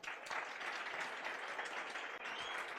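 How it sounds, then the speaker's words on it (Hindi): Students in a class clap together in a short, quiet burst of steady, even applause that lasts just under three seconds. "ताली बजाओ भाई."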